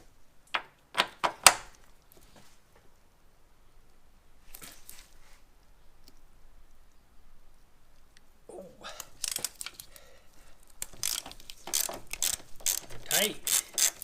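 Ratchet clicking while loosening upper control arm bolts on an Integra front suspension, a few sharp clicks early then bursts of close ratcheting with faint talk between.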